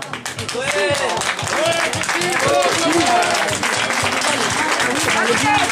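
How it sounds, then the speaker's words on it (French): An audience at a neighbourhood evening gathering applauds an award winner, steady clapping running throughout beneath loud talk and voices over a microphone. "On peut l'applaudir très fort, Clotilde."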